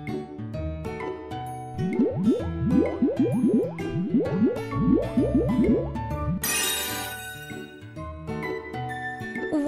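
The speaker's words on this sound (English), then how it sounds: "Make some bubbles on their faces." Soap bubbles squish and pop in a rapid burst of wet, bouncy squelches as faces are lathered in a kids' face-washing video game, followed by a short shimmering sparkle over light background music.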